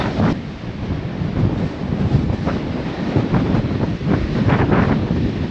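Strong, gusty wind buffets the microphone on an exposed Appalachian Trail mountain top, a continuous loud roar with surging bursts and no voices.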